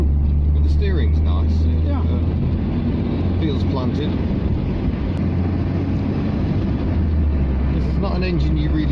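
Talbot Tagora 2.2 engine droning steadily from inside the car while driving, a constant low hum with wind and road noise, heard under continuous conversation between occupants.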